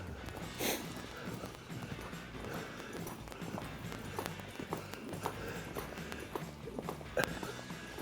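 A horse lopes around a small show pen, its hooves striking the ground in a steady rhythmic clip-clop, fairly faint and close, with a sharp snort near the start.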